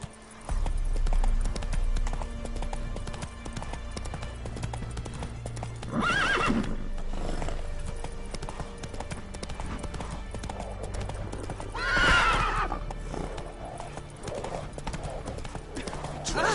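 Roach the horse in The Witcher 3 galloping with a steady clip-clop of hooves and two loud whinnying neighs, mixed with background game music and ambience.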